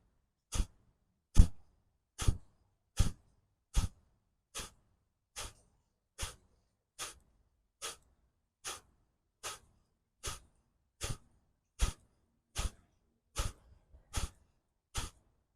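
Twenty sharp, forceful Kapalbhati yoga exhalations through the nose, evenly spaced at roughly one per second, each a short close-up puff of breath with near silence in between.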